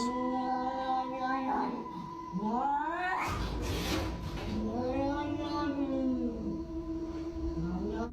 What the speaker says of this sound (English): Miley grabs her phone and starts recording as the cat just keeps freaking out